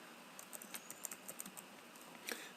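Quiet keystrokes on a computer keyboard while entering text into an Excel spreadsheet formula, a light irregular patter of clicks with a brief flurry near the end.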